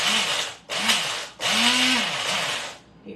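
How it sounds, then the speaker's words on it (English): A countertop blender chops garlic and fenugreek herb in three loud whirring bursts separated by short pauses, the motor pitch rising and dipping as the blades catch the contents. "Pardon the noise, I'm going to turn on this blender."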